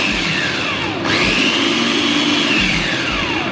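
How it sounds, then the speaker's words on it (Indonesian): A Mito electric food chopper mixing pempek dough with water, its motor whirring loudly and continuously, pitch sliding down and up as the load changes. "Terus kita chopper dengan menggunakan chopper Mito"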